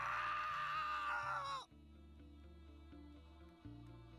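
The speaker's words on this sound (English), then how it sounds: "His scream resounded through the cell." A man screams in the video game Piofiore: Fated Memories, a loud, strained cry that breaks off abruptly and gives way to a quiet, steady musical backing.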